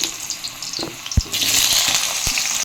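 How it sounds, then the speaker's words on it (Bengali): Potatoes frying in hot oil for a vegetarian Bengali banana-flower dish, with steady sizzling and a few clinks and knocks of a utensil in the pan, close by. "এবার আলু ভেজে নিচ্ছি"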